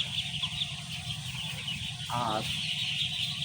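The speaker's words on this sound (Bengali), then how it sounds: "আমার এই হাঁসের বাচ্চার বয়স 4 দিন চলতেছে। এখানে 500 হাঁসের বাচ্চা আছে।" Five hundred four-day-old ducklings on a duck farm peep in a continuous high chorus that fills the background at moderate level, while someone speaks briefly over it.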